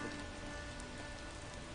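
Rain falls steadily in a close, dense and continuous hiss, with no voices over it.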